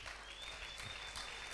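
A church congregation at a prayer marathon claps in a short, steady burst of applause that sounds somewhat distant and soft.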